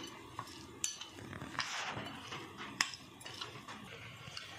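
Fasting kachori stuffing mixed in a bowl with a spoon: soft scraping and light metallic clinks, quiet and close, with no talking.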